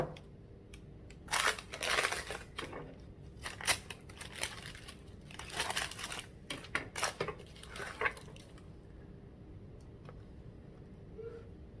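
A knife saws through a fresh loaf of banana bread, giving several close bursts of crumbly, scratchy cutting with short pauses between strokes, then quiet.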